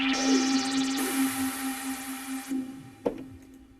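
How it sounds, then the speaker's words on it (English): A bright synthesized hiss of white noise from a Roland Juno-Di synthesizer swelling in over a sustained tone, then cutting off abruptly, followed by a sharp click. "there's my favorite white noise again."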